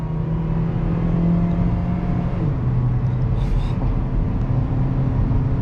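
A 2008 Honda Civic LX with a 4-cylinder engine accelerates, heard from inside as a loud steady droning hum whose pitch climbs and then drops at a gear change, continuing under road noise.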